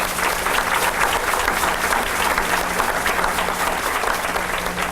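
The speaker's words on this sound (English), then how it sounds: "So please give everyone here a round of applause." Loud, continuous applause from a banquet audience at a Teacher of the Year event, dense clapping from many hands held at an even level throughout.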